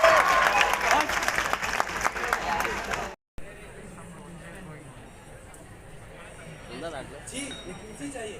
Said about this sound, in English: I wish you that you give a round of applause by clapping and not by shouting